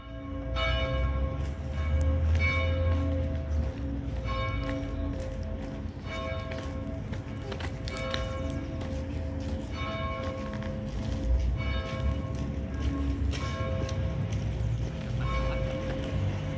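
Church bells peal in Paris, a continuous ringing of several bells with layered overlapping strikes and lingering tones over a low background rumble, with no one speaking.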